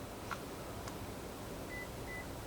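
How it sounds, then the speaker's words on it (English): A car remote key fob being programmed with a Launch X431 Pro Elite scan tool gives two short, faint electronic beeps in quick succession over a low background hum, preceded by a couple of soft clicks. "Hear it beep?"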